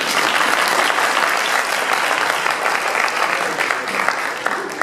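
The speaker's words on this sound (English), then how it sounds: "He deserves a round of applause." Steady applause from guests at a synagogue's anniversary dinner, a dense, fairly loud round of clapping filling the room for a few seconds without pause.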